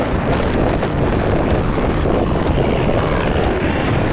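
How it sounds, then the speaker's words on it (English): A filming helicopter's dense, steady rotor and engine roar fills the air continuously during the Marathon des Sables race, loud and unbroken, with faint rhythmic chopping running beneath the broadband wash. "I have a helicopter flying ahead filming it."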